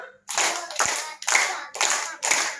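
Children visiting a library perform a group clap routine, with five short, loud bursts of unison hand claps separated by brief gaps.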